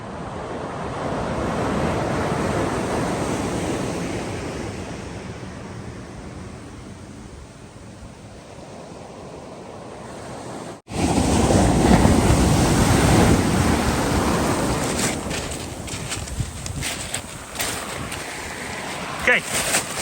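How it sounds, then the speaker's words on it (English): Tide washing over a rocky fossil-hunting beach, loud close surf with rolling, churning wash, some wind buffeting, and clattering rocks likely in the louder second half after a cut. "Great being this close to the tide. You can hear it moving all the rocks around."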